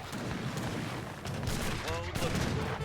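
Cannon booms and rapid gunfire crackle from a strategy video game battle as longbowmen fire on cannons and infantry is cut down, a dense continuous roar of shots and blasts with no clear pauses.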